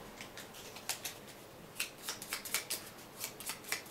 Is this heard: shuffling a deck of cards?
yes